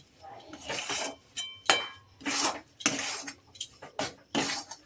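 A spoon or spatula stirring broccoli kachori filling in a metal kadai, giving repeated scraping and clinking strokes in irregular bursts with short pauses between, close and moderately quiet.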